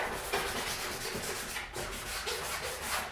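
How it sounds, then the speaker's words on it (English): A dishwashing scrubby rubbed briskly over artwork to buff its surface, a quiet, steady scratchy scrubbing in repeated back-and-forth strokes, close to the microphone with no talking. "a little scrubby, dishwashing scrubby, but I'm just kind of like buffing things out here"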